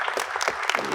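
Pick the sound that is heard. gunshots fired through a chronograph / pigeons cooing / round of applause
round of applause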